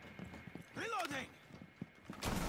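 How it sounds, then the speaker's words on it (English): A weapon being reloaded in Rainbow Six Siege: a handful of quiet mechanical clicks and clacks, with a voice rising and falling briefly in between and a louder noise burst at the end. "Reloading!"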